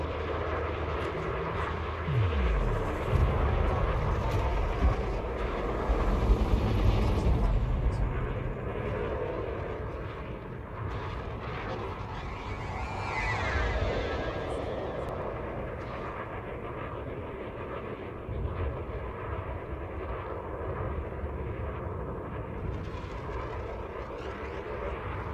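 Spaceship engines in a video game power up into a continuous deep rumbling roar with a whooshing swell midway, steady and fairly quiet, while a voice talks over it at times.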